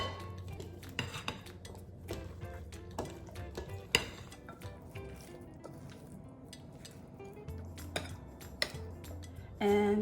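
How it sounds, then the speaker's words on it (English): Chicken wing seasoning of salt, smoked paprika and rice vinegar being mixed in a bowl, with irregular clinks and scrapes of a utensil against dishware, close and moderately quiet. "And we are going to go ahead and mix."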